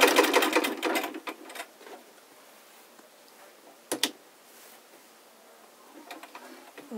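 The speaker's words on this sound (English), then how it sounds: "I continue just to sew over it just a few times." An antique sewing machine stitches in a quick rattling burst that fades out, followed by brief mechanical clicks and a short final run of stitching, close and alone.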